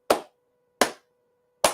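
Three sharp, loud hand claps spaced evenly about 0.8 seconds apart, each with a short decaying ring, mimicking the slow rhythmic skull chant of Minnesota Vikings fans at an NFL game against the Bills; no talking.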